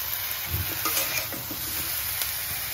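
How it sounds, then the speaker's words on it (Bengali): Ground cumin paste sizzles in a frying banana-peel curry as it is stirred, a steady close hiss with soft scraping and a few light pan knocks, no voices. "এবার কষানোর জন্য আগে থেকে বেটে নেওয়া জিরেটা দিয়ে দিব।"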